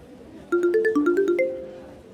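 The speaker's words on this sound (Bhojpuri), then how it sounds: "माँ का फोन है।" A mobile phone rings with an incoming call in a family home, playing a short melodic run of about nine bright tones. The ringtone is clear, moderately loud, and stands alone without talk.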